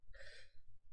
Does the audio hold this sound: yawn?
yes